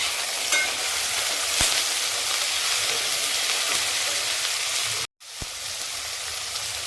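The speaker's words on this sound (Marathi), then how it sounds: "त्यानंतर त्यामध्ये टॉमॅटो ॲड करू टॉमॅटो पण चांगला परतून घेऊ" Tomatoes with onion sauté in a pan for vatana pulav, giving a steady loud sizzle with occasional stirring scrapes and a short break before the frying hiss returns.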